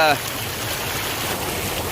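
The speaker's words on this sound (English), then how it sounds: "This creek is flooding." Flooding creek water rushes during a thunderstorm in woods at night, a steady, close broadband roar of flowing water with a brief voice at the very start.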